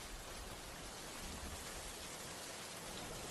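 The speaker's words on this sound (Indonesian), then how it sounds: "Aduh, mana hujannya kayak gini" Heavy rain pours down in a dense, steady roar, loud and close, with no break and no voices through the whole stretch.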